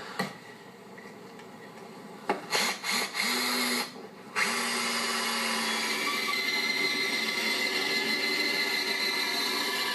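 A power tool cuts 3/4 inch pre-primed pine stock, starting with a few short bursts before settling into a long, loud, steady whine that fills the rest of the clip.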